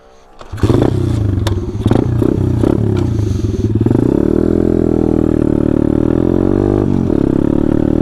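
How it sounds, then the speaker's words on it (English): A vehicle doing a burnout nearby roars loudly, opening with clattering bursts of revving before settling into a sustained, strained high engine drone that holds to the end. "Someone's doing a burnout or something."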